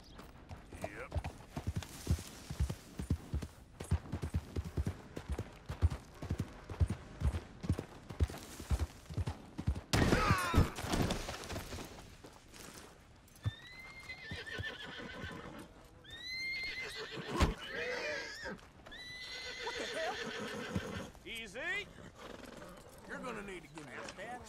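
A horse in the video game Red Dead Redemption 2 clip-clops in a steady hoof rhythm for several seconds, then whinnies and neighs loudly with snorts, close and dominant over faint background noise.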